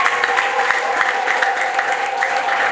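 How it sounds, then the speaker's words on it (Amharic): A church congregation claps for Jesus, steady continuous applause from many hands in a worship hall, loud and even throughout with no one speaking over it. "ለጌታ ለኢየሱስ አጨብጭቡ"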